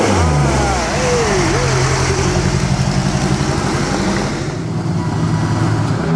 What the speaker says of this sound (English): Here's the Ferrari from the racers.